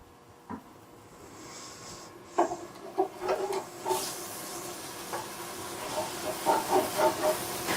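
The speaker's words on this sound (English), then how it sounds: "We're going to gently heat the liquid on medium heat, using a spatula to drag along the bottom to bring up the stuck food." Liquid heated on medium in a pan during deglazing hisses and steams while a spatula drags along the bottom, making repeated scraping strokes that grow busier toward the end.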